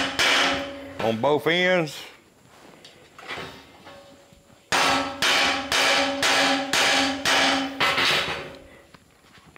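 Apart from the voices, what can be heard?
hammering to flatten the end of tie wire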